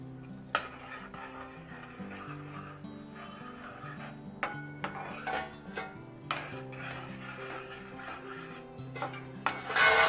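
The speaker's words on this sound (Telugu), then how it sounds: "పొడి వేసి కలుపుదాము" A spoon scrapes and clinks against a pan while powder is stirred into a sweet laddu mixture, giving repeated clatter and stirring over steady background music.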